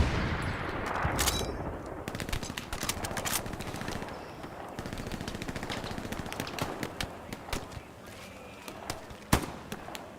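Video game gunfire in a trench battle: sustained rapid machine-gun bursts and scattered single shots crackling at mid distance, with one louder nearby shot near the end, under a dense battlefield din and occasional voices.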